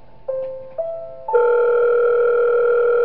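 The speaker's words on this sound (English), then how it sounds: "we get a phone call." A telephone in the video game Five Nights at Wario's sounds a steady electronic tone that steps up in pitch twice and then holds as a loud, sustained ring, with no talk over it.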